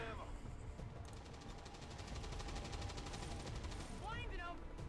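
Gunfire in the turn-based strategy game XCOM Long War 2, a rapid rattling volley of shots under low background hum, fairly faint, with a short electronic chirp near the end.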